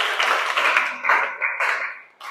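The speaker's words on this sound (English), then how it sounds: "Give applause please." A classroom audience claps steadily for a couple of seconds after a student's poetry presentation, a dense patter of many hands that tapers off near the end.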